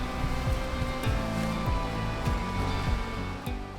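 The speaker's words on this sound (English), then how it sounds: "The sound of rushing water means they made it to the junction of Holmes Brook and the Middle Branch Pleasant River." Rushing water where Holmes Brook meets the Middle Branch Pleasant River, a steady, moderately faint wash of flowing stream noise with some brief higher tones over it.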